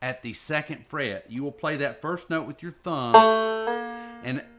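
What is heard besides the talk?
None of the usual background noises is heard.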